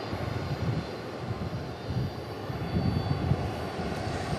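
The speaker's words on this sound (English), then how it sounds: "Pretty sure you can hear the engines." Jet airliner engines rumble steadily at DFW International Airport, a low, continuous roar at middling distance that swells slightly toward the end, with no voices.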